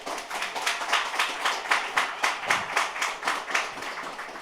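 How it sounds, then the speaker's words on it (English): An audience claps in steady applause to welcome an introduced speaker at a career talk, a dense, even patter of many hands heard at a moderate distance without talk. "give her another round of applause"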